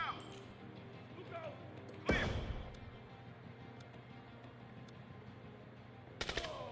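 A flashbang grenade goes off inside a room in the tactical game Door Kickers 2: one sharp, loud broadband bang over low ambient game noise, followed by a quick burst of cracks near the end.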